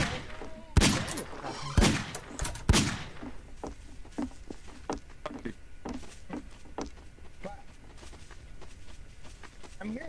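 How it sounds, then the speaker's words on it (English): Video-game gunshots in a Garry's Mod WWII roleplay battle: a few loud close cracks early on, then many fainter, more distant shots scattered across the rest, with quieter background noise between them. "I'm hearing shots, but I have no idea where they're coming from."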